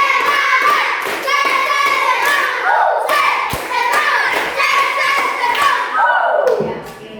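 Children in a classroom clap in rhythmic spirit-clap patterns, loud and close, in repeated sets with short pauses between, while voices call and chant over the clapping.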